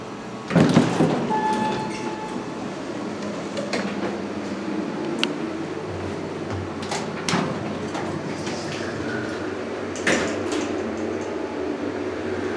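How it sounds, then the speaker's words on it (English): A 1970 Westinghouse bottom-drive traction service elevator in a hotel runs with a steady mechanical rumble and hum, broken by a few sharp clunks and rattles of doors or car hardware. No one speaks. "Bet the service elevator is available to ride."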